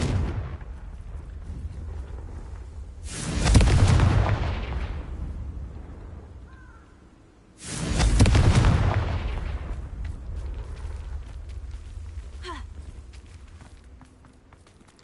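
Two loud Confringo spell blasts in Hogwarts Legacy, each a sharp explosive burst with a rumbling tail, spaced about four seconds apart over quieter background game ambience and faint footsteps.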